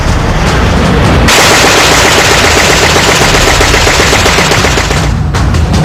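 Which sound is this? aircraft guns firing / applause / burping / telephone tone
aircraft guns firing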